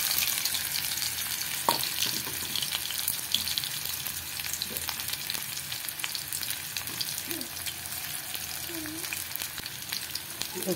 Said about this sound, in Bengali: চলো বন্ধুরা কুচানো পেঁয়াজগুলো আমি এর মধ্যে দিয়ে দিলাম